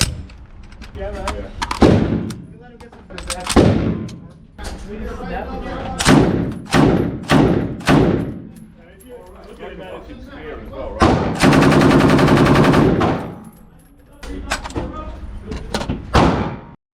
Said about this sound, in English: Oh, they shoot the minigun now.